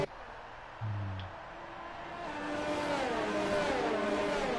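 F1 race cars accelerating in an online league German Grand Prix in a racing video game, engines whining up through rising pitches as several cars rev and pass, building louder toward the end, with no voices.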